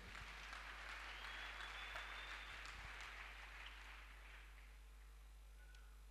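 A church congregation claps in sustained, dense applause that slowly fades, heard faintly over a steady low electrical hum.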